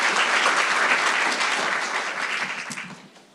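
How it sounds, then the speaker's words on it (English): An audience at a fall convocation ceremony applauds new faculty and staff, a dense, full burst of clapping that holds steady and then tapers off toward the end. "Let's give a round of applause for all these new faculty and staff."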